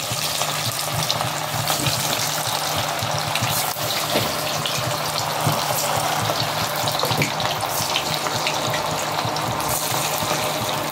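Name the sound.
varki vadai frying in hot oil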